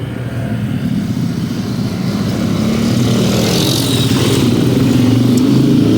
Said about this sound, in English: The traffic here, about half of the traffic is motorbikes.